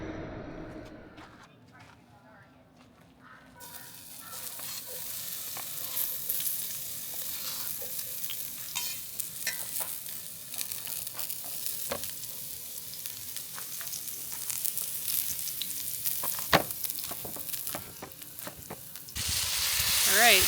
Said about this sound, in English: John is cooking dinner, and he just put some meat in the pan.